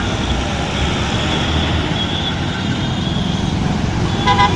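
Road traffic at a roundabout in India, with a constant close rumble of engines and tyres and a short horn toot near the end.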